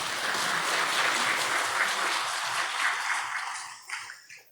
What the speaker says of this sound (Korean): 다시 한번 우리 하나님께 감사의 박수 올려드리겠습니다.